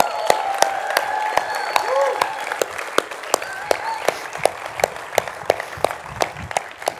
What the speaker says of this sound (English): a huge cheer for our students once again